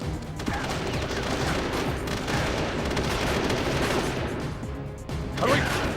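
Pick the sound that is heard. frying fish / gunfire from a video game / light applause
gunfire from a video game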